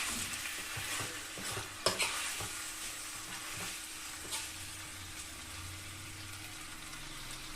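Chicken sukka is stirred while frying in a pan. A spoon clacks and scrapes against the pan over a soft, continuous sizzle, with one sharper knock partway through, all fairly quiet and close.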